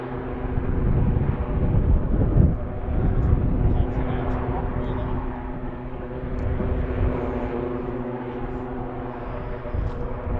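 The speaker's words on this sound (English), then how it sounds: "Cessna 182R Skylane, Civil Air Patrol. Headed out to the runway." A Cessna 182R Skylane of the Civil Air Patrol taxiing out toward the runway, its steady propeller engine drone carrying at a distance across the airfield, continuous and fairly even throughout.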